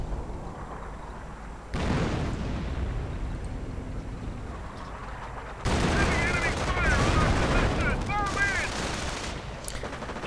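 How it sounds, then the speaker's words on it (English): Artillery barrage and gunfire in a WWII strategy video game, with dense rumbling blasts and rattling shots building into a heavier sustained roar, mid-distance and continuous. "And again, lots and lots of artillery from the American commander."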